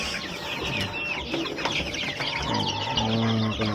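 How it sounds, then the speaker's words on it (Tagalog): Three-day-old chicks in a growing pen chirp and cheep continuously at close range, with overlapping high peeps and some lower clucking from fowl nearby. "Ito, nailipat na rin natin itong mga sisiw natin dito."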